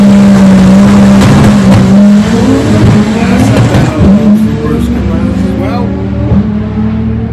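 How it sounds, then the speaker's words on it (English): Audi RS3 drag racing at a heads-up event, loud engine roaring and revving with tire noise, close and aggressive, while an announcer talks over it. "currently qualified number one, Dave Henderson with the Audi RS3"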